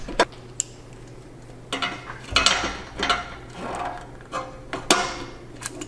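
Ratchet wrench loosening exhaust mid-pipe bolts under a 2019-2022 Toyota hatchback, sounding as rapid clicking strokes in uneven bursts, close and fairly loud.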